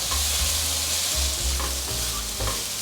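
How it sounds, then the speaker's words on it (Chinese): Lotus root and grated ginger stir-fried in a pan, giving a steady loud sizzle broken by spatula scrapes and stirs that come in rhythmic bursts, with no talking. "先稍微翻炒一下， 让香味充分吸收到食材里面"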